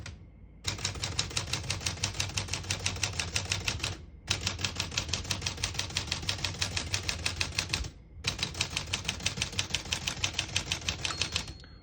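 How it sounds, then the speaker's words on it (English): A 1949 Smith-Corona Silent portable typewriter types in three long steady runs of rapid even keystrokes, close and clear, with short pauses between runs; a margin bell is not clearly distinct. "Once you hear the bell, you're at the end of the margin."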